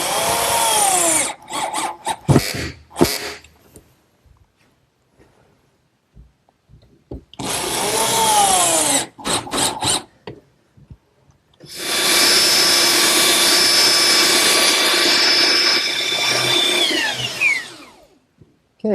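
A power tool rounds the corners of a wooden tabletop for a harvest table in a woodworking shop, whining loudly in three separate runs with quiet pauses between, the last run the longest before winding down.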